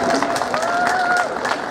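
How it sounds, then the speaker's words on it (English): Audience applause at a live game show at a gaming expo in Manchester, a busy crowd clapping with scattered cheers and a voice-like tone running through the middle. "Come on, I need a round of applause for that,"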